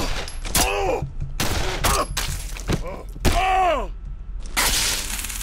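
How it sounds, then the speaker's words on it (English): Rapid bursts of machine gun fire in the horror game Condemned: Criminal Origins, loud and close, coming in several separate volleys with brief gaps between them. "I'm hitting the wrong freaking machine gun!"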